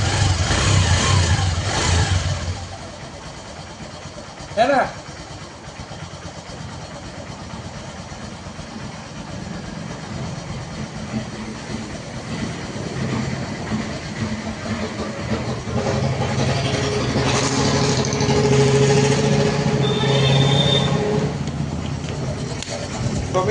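A Honda Dream Neo 110cc motorcycle engine runs steadily after being kick-started, a continuous mid-pitched hum with a brief sharp blip early on and the idle rising slightly toward the end, with a short spoken remark over it.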